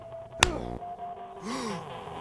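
A man's sharp, sudden gasp on impact, a brief loud intake of breath followed by a strained, breathy voiced exhale that trails off.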